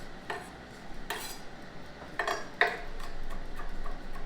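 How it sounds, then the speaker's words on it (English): Knife tapping against a cutting board while roughly chopping garlic, several sharp irregular clicks close up, quiet between strikes. "we're going to do more of a rougher chop to our garlic"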